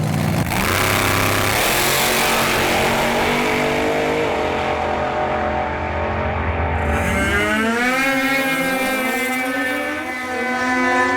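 Cars at a drag race roar nearby, one engine droning loudly before another revs up sharply with rising, accelerating pitch in the second half, with no talking.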